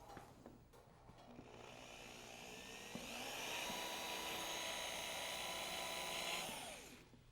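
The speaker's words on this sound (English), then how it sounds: "using a drill motor with a little Phillips head bit on it" A drill motor fitted with a small Phillips head bit drives a screw down through the floor into a floor joist, giving a steady, loud high-pitched whine that rises in pitch midway through and winds down at the end, with no talk.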